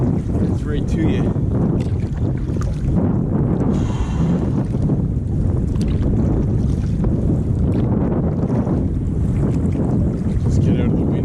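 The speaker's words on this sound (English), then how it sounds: "Put this extra layer on because of the wind coming through." Strong wind buffets the microphone outdoors on a lake in Algonquin Park, a loud, continuous roar with gusty swells and some faint water sounds underneath.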